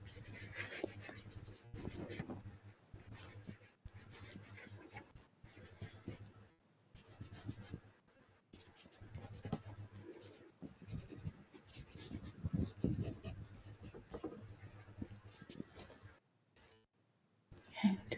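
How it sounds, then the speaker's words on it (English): Pen or pencil drawing on paper in a series of soft, close scratchy strokes with short pauses between them, heard quietly under occasional talk. "just going to do a bit more drawing just while I'm waiting"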